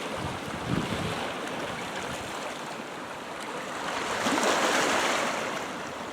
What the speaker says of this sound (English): I'm down right next to the sea.